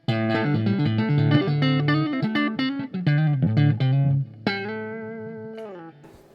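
A Fender Telecaster with Danny Gatton pickups plays on its neck pickup through a clean amp channel with the reverb turned down slightly, giving a quick run of picked notes that ends in a sustained chord ringing out alone.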